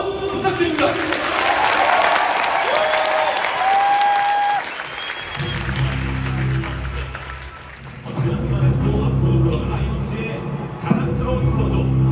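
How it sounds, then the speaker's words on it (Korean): A stadium crowd applauds loudly at a baseball closer's retirement ceremony, dense continuous clapping and cheering with an announcer's amplified voice and music rising over it partway through. "여러분 큰 박수 부탁드립니다"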